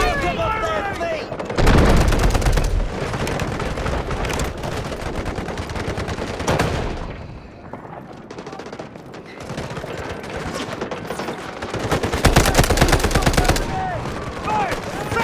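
Dense, rapid automatic gunfire from the video game Delta Force in a large 24v24 attack-and-defend battle, loud and nearly continuous with a brief lull, layered with shouting voices.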